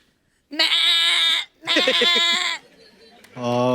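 A person imitates a goat's bleat during a guessing game on a comedy show, three loud nasal wavering bleats in quick succession, close and dry.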